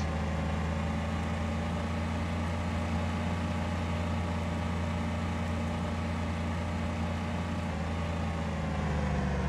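A BMW engine driving at full speed up a mountain, a steady, continuous drone with a constant low rumble and unchanging strain heard from inside the vehicle.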